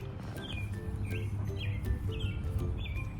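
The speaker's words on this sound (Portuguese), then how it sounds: "Emi, você tá vendo passarinho?" Small birds chirping in a suburban New Jersey neighborhood in spring, with repeated quick high tweets and short calls over a steady low outdoor hum, fairly near and clear.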